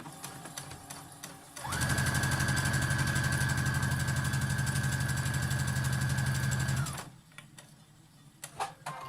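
A sewing machine top stitching the lower edge of a face mask runs in one steady, close, even whir for about five seconds, with a sustained motor tone, between quieter handling noises.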